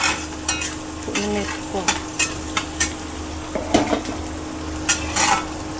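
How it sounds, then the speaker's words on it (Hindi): Chillies, ginger and garlic crackle and hiss in a hot pan, a steady sizzle with a few scraping and clinking stirs, while a voice speaks briefly over it. "इनको हल्का सा भून लेंगे ताकि इसका फ्लेवर आ जाए बढ़िया करके"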